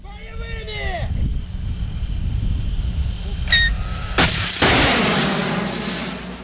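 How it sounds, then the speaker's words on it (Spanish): A self-propelled surface-to-air missile launched during a Russian military exercise near Yeysk in the Krasnodar region: a loud roaring blast and rushing launch noise that build and then fade, mixed with voices and other noise. "Disparo de los peligrosos misiles autoportables para destruir blancos aéreos"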